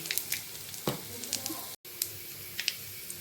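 Cumin seeds and asafoetida sizzle in hot oil for pithla, a close and steady crackling fry dotted with sharp pops and spits. A soft stirring clink is heard now and then.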